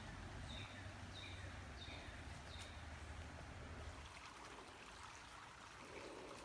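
A pretty creek flows at Dixon Springs State Park, Illinois, in summer, a soft steady rush of water alone, with faint bird chirps early on.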